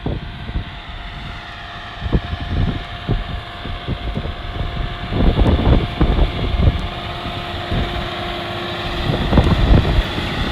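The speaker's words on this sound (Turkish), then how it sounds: "Traktör John Deere 6195M" A John Deere 6195M tractor drones steadily at a distance while working a field, its low rumble rising and falling, with faint wind and no voices.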